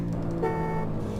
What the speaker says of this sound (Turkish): Abi kornası çok hoşmuş.